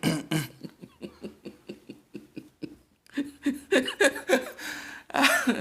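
A person gives a quick run of short, sharp coughs in a steady rhythm, close to the microphone, followed by a few louder, breathier bursts.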